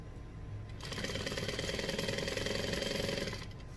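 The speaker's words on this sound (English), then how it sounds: "I'm going to sew down a little bit further" Sewing machine stitching down quilt binding, a fast, steady mechanical whirr that starts abruptly, runs for about three seconds close up, then stops.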